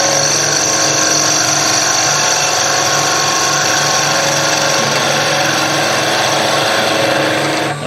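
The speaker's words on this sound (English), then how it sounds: "I'm going to now go to the planing cut that we've done before" A skew chisel takes a planing cut along spinning wood on a lathe, giving a steady, continuous hissing shear with a constant motor hum beneath it, unbroken for the whole stretch.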